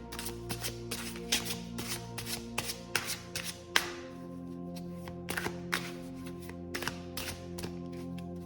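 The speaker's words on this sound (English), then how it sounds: "let's give the cards a quick shuffle" Rapid papery riffling of a tarot card deck, repeated in quick bursts with sharp taps between, close and fairly quiet, no voices.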